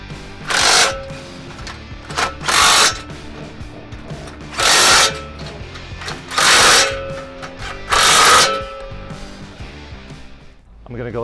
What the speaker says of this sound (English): Now we'll tighten down the top bracket to the top of the ladder.